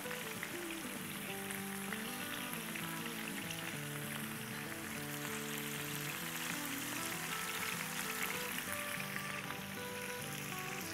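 Tandoori kababs frying in a crowded pan, a steady, close sizzle with crackling and popping throughout, while music plays quietly underneath.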